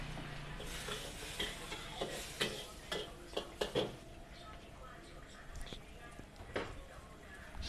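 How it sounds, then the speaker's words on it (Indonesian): Kwetiau noodles are stir-fried in a pan, giving soft sizzling with irregular scraping and tapping of a utensil against the pan, fairly faint and close. "Proses pembuatan mie tiau goreng."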